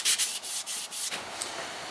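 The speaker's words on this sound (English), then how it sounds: "let's do some sanding" Steady scratchy rubbing of sandpaper back and forth over wood, close up, in a fast rhythmic pattern with no talking.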